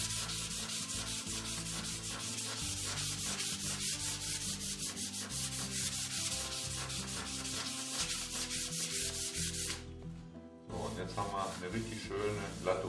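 Fine 400-grit sandpaper rubbed lightly over a surface for airbrush work, a continuous rapid back-and-forth scratching, close and steady, stopping near the end before a brief softer rub.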